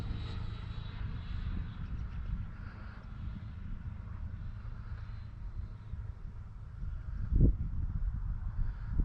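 A Freewing L-39 RC model jet in Russian camouflage flies on a maiden flight with landing flaps down, giving a faint, steady engine whine from a distance with no talk.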